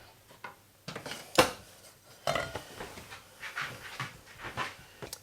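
A pan that held potatoes is set back on the stove heat while cooking a leftover ham and potato casserole, giving a few soft metallic clanks and scrapes, close and moderately quiet, with small kitchen clatter around them and no talking.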